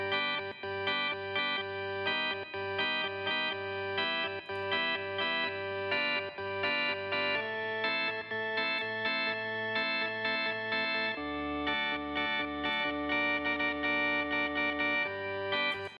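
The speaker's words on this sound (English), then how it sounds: "let's hear the whole organ, and then I'll unmute the echo so you can hear it" Sustained organ track with an echo effect, mixed in 1960s Abbey Road style, playing held chords with rhythmic pulsing repeats and a chord change partway through, loud and alone without talk.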